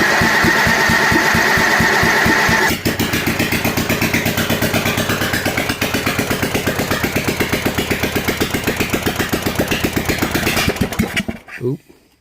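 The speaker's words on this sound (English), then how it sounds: "we'll fire it up for you so you can hear how obnoxious this bad boy is without an exhaust pipe" Craftsman engine running with no exhaust pipe, loud and close: a harsh, rapid, evenly pulsing idle with a brief revving burst at the start, then the engine cuts off and sputters to silence near the end.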